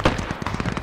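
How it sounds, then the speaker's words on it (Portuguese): A quick burst of several sharp video-game gunshots fires in rapid succession, loud and close. "tá vindo tiro do sul"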